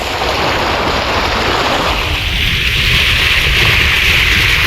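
Ocean surf washing steadily against a fishing shore, a continuous broad rush of water and wind with no pauses, loud and close throughout.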